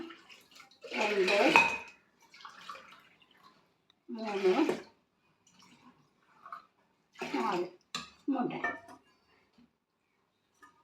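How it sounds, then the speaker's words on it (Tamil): Water is poured from a tumbler in several separate splashing bursts, with a voice counting quietly between the pours. "4 டம்ளர் தண்ணி ஊற்றிக்கொள்ள வேண்டும்."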